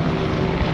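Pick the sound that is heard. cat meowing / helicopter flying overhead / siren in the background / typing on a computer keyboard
helicopter flying overhead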